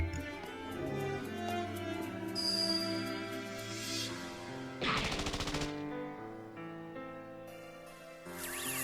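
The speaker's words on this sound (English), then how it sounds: "Burst shot." Rapid burst of video game gunfire, a dense volley of shots around the middle of the clip, loud and up close over a steady layer of game music and effects.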